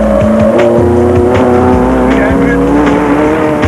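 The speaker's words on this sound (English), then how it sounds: "Castrol Toyota pair Chris and Andrew Birkin, with race cam action from the Toyota indicating that the McRib 400 was also going to be a high-speed affair." Onboard a Toyota race vehicle at speed during the 2000 Mafikeng 500 off-road race, the engine roars loud and steady with shifting pitch as gears change, and a voice may sit faintly beneath.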